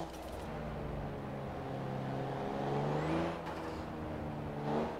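Turbocharged Alfa Romeo car in the racing game Forza Horizon 4, its engine droning and rising in pitch as it accelerates, with a whistling turbo whine climbing above the engine and brief bursts near the start and end.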